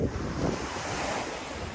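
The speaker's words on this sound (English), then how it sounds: "So the Atlantic Ocean in front of us." Waves from the Atlantic Ocean wash steadily against a rocky shore in Ireland on the Ring of Kerry, with a constant roar of surf mixed with heavy wind buffeting the microphone.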